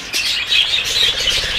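Pet birds in an aviary flap and chirp close by, a brief busy flutter of wings mixed with quick high tweets, with no talking.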